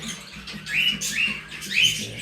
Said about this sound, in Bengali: আমার কবুতর